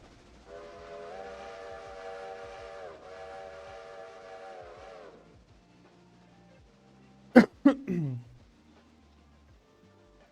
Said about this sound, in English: Look at all the trains moving around.